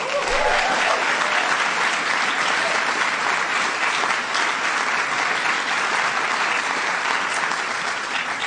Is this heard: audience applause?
yes